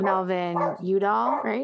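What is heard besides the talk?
dogs barking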